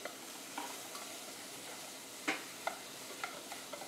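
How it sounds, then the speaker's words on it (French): Peas drop into a pan and are stirred, with a soft sizzle of frying under a few sharp clicks and taps of a utensil against the pan, quiet and close. "On ajoute nos petits pois."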